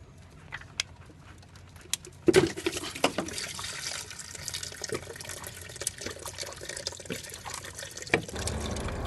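Engine coolant drains from a disconnected thermostat housing hose on a BMW X3 F25 into a container, a steady liquid pour with splashes and a few sharper clunks, fairly faint and close.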